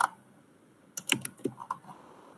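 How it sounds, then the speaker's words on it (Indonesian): A computer keyboard is pressed close by for a Ctrl X cut shortcut while working in a statistics spreadsheet: one light tap, then a quick cluster of sharp clicks and a few softer taps. Nobody speaks. "Ctrl X, saya paste. Ini saya Ctrl X. Ini saya paste lagi."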